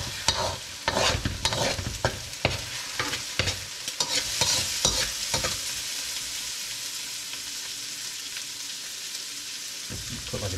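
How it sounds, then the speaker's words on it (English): A big cube of butter sizzling in a hot pan before rice goes in for chicken fried rice, with a steady frying hiss under irregular scraping and stirring clatter, close and moderately loud, no talking. "Okay, I'm gonna toss the butter in before I toss the rice in."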